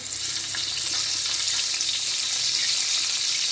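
Ingredients fry in a pan of hot oil, a loud and steady sizzle that hisses without pause from start to finish, with no voices over it.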